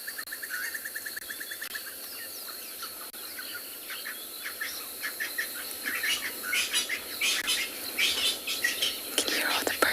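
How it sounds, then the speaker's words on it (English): Several birds chirp and sing in quick, overlapping calls in the South African bush on a summer afternoon, growing busier and louder toward the end, with a soft whisper-like murmur underneath. "Can you hear all the birds?"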